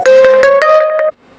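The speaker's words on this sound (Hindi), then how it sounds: "ये रिंगटोन है, अपने हिसाब से इसकी रिंगटोन बदलें" A phone ringtone plays loud and close from the phone's settings menu: a short bright melodic tone with a steady pitch that rises once partway through, then stops abruptly, with no talk over it.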